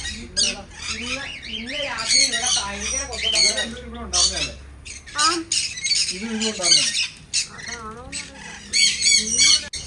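Many caged birds squawking and chattering close by, shrill overlapping calls that rise and fall continuously.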